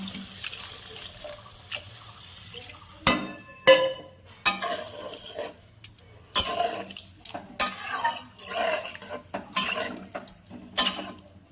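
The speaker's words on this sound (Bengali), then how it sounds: "এবার জল দিয়ে দিব।" Water poured into a pan of fish curry with drumsticks and potatoes, a splashing, trickling pour broken into several bursts, close and fairly loud, with no talk.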